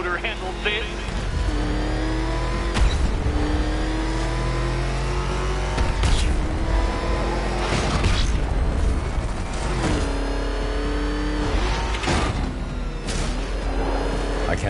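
A Batmobile engine revs and roars continuously in Batman: Arkham Knight, its pitch rising and falling in loud surges, with thumps and mechanical clatter over a steady rumble while a voice speaks over the action.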